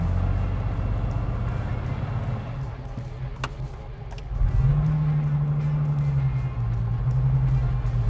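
A Lamborghini Miura engine idles with a steady, loud low rumble, then revs up and settles into a higher held note with a brief dip, all close and without talk.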